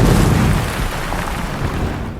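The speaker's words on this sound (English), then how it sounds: "causing the place to be bombarded." Loud, rumbling explosions from a bombardment in a war movie, a heavy boom that rolls and decays over about two seconds, with no talking.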